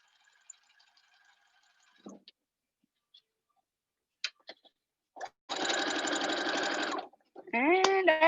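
A home sewing machine stitches ribbon onto a ribbon skirt in a steady mechanical whir lasting about a second and a half, then stops. Brief clicks and handling noises come before it, and a short voice follows.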